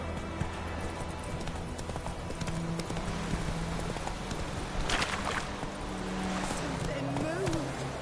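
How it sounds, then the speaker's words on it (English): Horse hooves clip-clop at a steady gallop in the video game The Witcher 3, a continuous near rhythm over game ambience with a voice talking at times. "Run, Roach."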